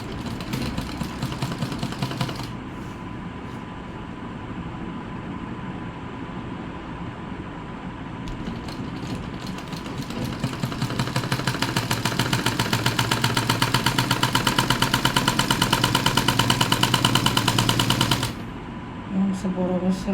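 A sewing machine stitching a dress sleeve hums steadily, then its rapid needle rattle swells louder and denser for several seconds before stopping abruptly, with brief pauses between runs.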